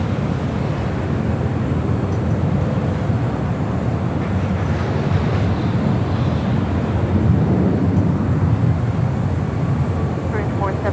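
A jet airplane departing a runway at LAX, a loud steady broadband roar held throughout with wind buffeting on the microphone and a voice talking over it.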